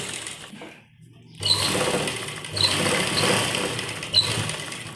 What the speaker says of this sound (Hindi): ये हमें चारों तरफ सिलाई लगानी है